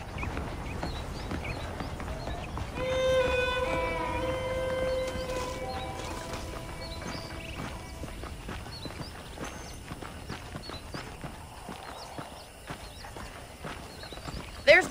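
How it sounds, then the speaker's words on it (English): Steady clip-clop of horse hooves while riding in the Western video game Red Dead Redemption, a continuous rhythmic trot under ambient outdoor sound, with a faint voice in the background. "Okay, let's see if you can still ride a horse."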